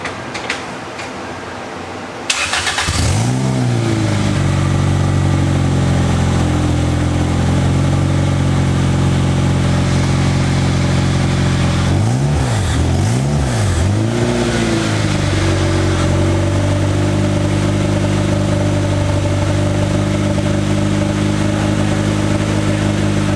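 A Toyota MR2 engine with a straight-piped exhaust and a leaky flange cranks over and catches after a couple of seconds. It then idles loud and raspy, with several sharp revs blipped up and back down partway through.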